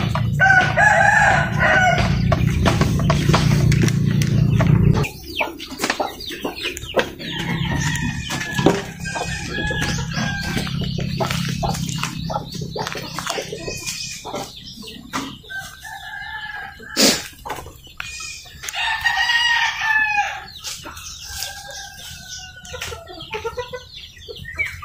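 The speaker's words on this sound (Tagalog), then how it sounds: "yung ating Rhode Island rooster" A Rhode Island Red rooster crows loudly several times nearby, long strained calls separated by pauses, with softer clucking and scratching in between.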